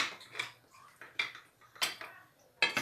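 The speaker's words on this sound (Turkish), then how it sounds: "Tenceremizin kapağını kapatalım." A lid is set onto a cooking pot in a home kitchen, giving several short metallic clinks and clatters spaced across a few seconds, close and fairly quiet.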